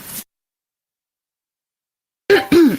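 After a brief noise and a long silence, a person clears their throat with two short, rough vocal bursts close to the mic.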